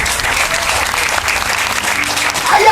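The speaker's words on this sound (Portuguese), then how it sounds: "Só quem acredita que vai sair de posse de vitória, aplauda o nome do Senhor." Church congregation applauding together during a sermon, a steady wash of clapping that fills the space throughout, loud and continuous with no talk over it.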